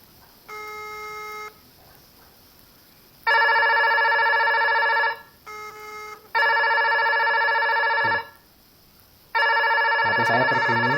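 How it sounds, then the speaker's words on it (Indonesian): A phone rings after a call is placed from a Q50 kids' GPS smartwatch, sounding as several loud, sustained electronic ring bursts with short gaps between them, close and clear with no talking. "HP saya berbunyi saat telepon pakai jam ini."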